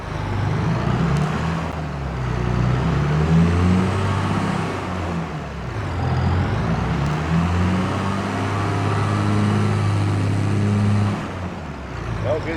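A working tractor backs up, its engine rumbling low and shifting in pitch as it revs and strains, close by and continuous. Someone talks briefly over the engine noise.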